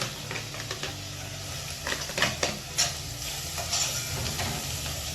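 Seasoning for ackee and saltfish frying in a pan, a steady close sizzle broken by a few sharp stirring scrapes and clicks.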